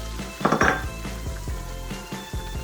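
Chorizo tipped into a pan of rice with browned garlic, landing with a scraping clatter and a brief sizzle, followed by several sharp knocks of a utensil against the pan at an uneven rhythm, close by with no talk.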